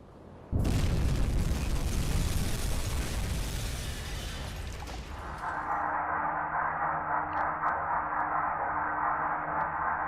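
A torpedo detonation in the submarine game UBOAT strikes a Flower class corvette: a sudden loud boom opening into a long rumbling roar, then easing into a steady muffled underwater drone with faint clicks, with no talking.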